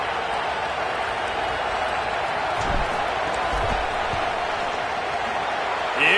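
A stadium crowd in a college football video game, a dense continuous roar holding at a steady level, with faint low thumps underneath and a slight swell at the very end.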